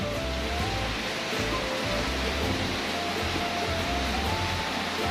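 Steady rain falling in a continuous dense hiss, loud and unbroken throughout, with faint tonal sounds underneath.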